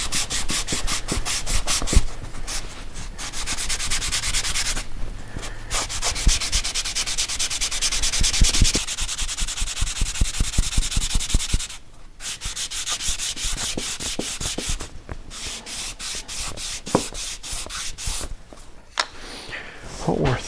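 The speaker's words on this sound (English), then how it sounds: "So let me sand this part like the outside" Hand sanding on a wooden shadow box, steady rhythmic scratchy back-and-forth strokes, close and continuous with a few short pauses.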